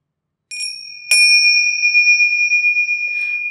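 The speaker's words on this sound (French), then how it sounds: "Coup de gong? Faux coup de gong." A sound-effect gong rings out with a bright metallic strike and a sustained shimmering tone that lingers for several seconds, with a second strike layered in and a faint rattle near the end.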